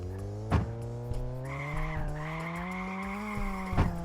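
In Streamer Life Simulator 2, a car engine revs steadily with rising pitch while tires squeal and skid in a long drift, punctuated by a couple of sharp impacts.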